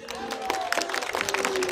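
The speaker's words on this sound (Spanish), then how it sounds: "Vamos a darles un aplauso." A small audience on a Frida Kahlo and Mexico City legends tour claps in loose, uneven bursts. A voice is audible over the applause throughout.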